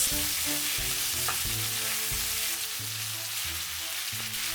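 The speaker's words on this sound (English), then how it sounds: "Stir and add the carrots." Chicken and carrots sizzle steadily in a hot frying pan during a Chinese-style stir-fry, with repeated scraping knocks of a utensil stirring the pieces, close and continuous with no talking.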